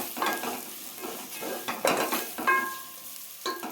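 Chopped onions crackle and sizzle in hot oil for a quick rice bath breakfast, with a spatula scraping and stirring through the pan in repeated close strokes.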